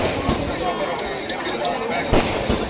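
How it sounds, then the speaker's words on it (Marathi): Fireworks crackle and burst in the sky over the annual jatra festival at Shri Dev Vetoba temple in Vetal Bambarde, 2025, with scattered pops and one louder bang near the end over a steady festive background. "आता ना फटाक्यांची आतिषबाजी होते"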